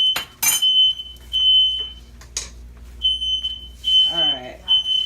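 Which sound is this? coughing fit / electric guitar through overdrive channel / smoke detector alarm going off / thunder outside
smoke detector alarm going off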